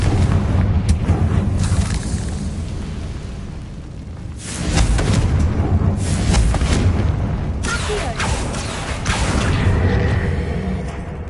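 Confringo blasting spell in Hogwarts Legacy, a series of loud booming explosions with rumbling bursts and crackling debris, several blasts spaced a few seconds apart.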